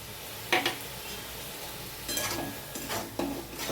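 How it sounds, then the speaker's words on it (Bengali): Ridge gourd and potato fry with mustard, poppy seed and green chili paste, giving a soft continuous sizzle broken by a few scraping stirs of a spoon against the pan. "এবারে দিচ্ছি সর্ষে, পোস্ত আর কাঁচা লঙ্কা বাটাটা,"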